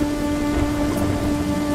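Steady rain falls in a 2D animated story about a poor farmer, a continuous even hiss of drops with a low rumble beneath, close and uninterrupted, with no voices.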